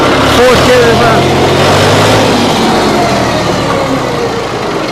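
Close, steady engine drone from a 2012 John Deere 5055D tractor backing up in fourth gear reverse. The loud, even rumble continues throughout beneath a voice.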